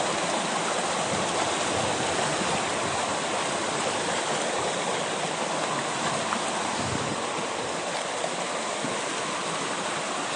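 River water flows in a steady, even rush, a continuous close wash of current with no voices over it.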